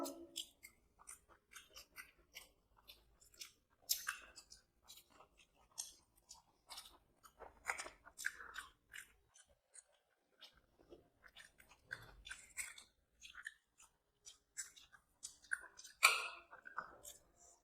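Close, quiet chewing of idli, dosa and uttapam with sambar and chutney, with soft irregular wet bites and mouth clicks scattered through a long stretch.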